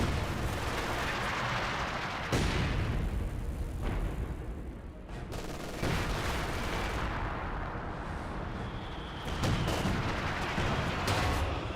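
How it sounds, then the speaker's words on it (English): Pack Howitzer artillery fires in a Company of Heroes 2 battle, several heavy booming shots and explosions spaced across the stretch over a continuous rumble of battle noise. "Good pen there from the Pack Howitzer"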